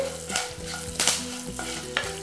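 Tempering spices and curry leaves sizzle and crackle in hot oil, with a spoon scraping and stirring the pan in several quick strokes, close up.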